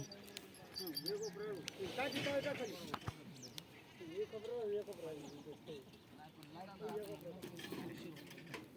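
Sheep bleat repeatedly at close range, several wavering calls overlapping, with a few soft clicks and shuffling in between.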